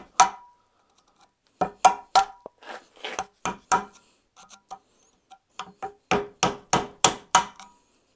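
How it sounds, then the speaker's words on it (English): A hammer strikes a seized carburettor in sharp metallic blows, first scattered single knocks, then a quicker run of evenly spaced hits near the end, close and alone with quiet gaps between. "Might be able to chop it off with this hammer."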